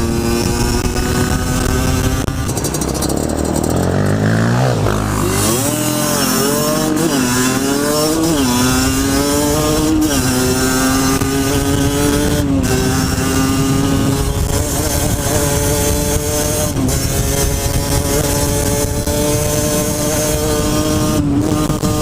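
A 50cc enduro motorcycle runs at full throttle on dirt trails, its high, buzzing two-stroke-style whine loud and continuous, rising and dipping in pitch with shifts and speed changes, close to the rider with no talk.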